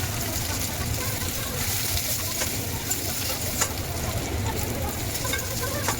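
Water spinach (kalmi greens) frying and being stirred in a pan for a Bengali lunch, giving a steady, close sizzle with faint scraping, heard alone without talk.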